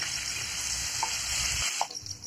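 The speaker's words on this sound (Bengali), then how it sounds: "এবার আলু আর পটলটা দিয়ে দেব। এইবার এর মধ্যে দিয়ে দেব হলুদ সামান্য পরিমাণ আর লবণ, দিয়ে এটাকে ভালো করে ফ্রাই করে নেব।" Potato and pointed gourd fry in oil with turmeric and salt, giving a steady close sizzle with a few brief stirring knocks, and the hiss dips for a moment near the end.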